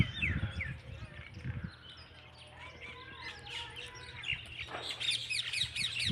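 Young pigeon chicks chirp and peep in high, rapid bursts from close by, with some rustling and handling noise in a loft as the birds are taken out.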